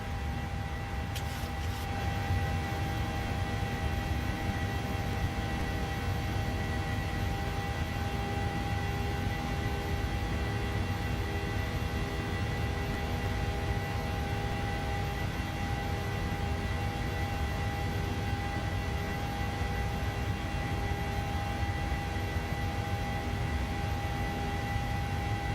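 Small propeller airplane droning steadily in flight over Santa Fe, a loud, constant engine hum with a broad rumble and steady tonal whine throughout, no talk.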